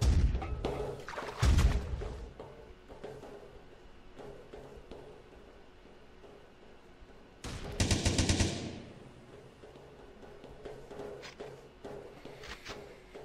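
AK rifle gunfire in the blocky shooter game Blockstorm, heard as rapid bursts of sharp shots over a constant busy background of game noise, with a loud heavy volley near the middle.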